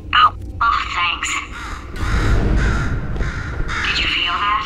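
A crow caws several times in the Portal 2 video game, loud and close, with a speaking voice and a low rumble running underneath.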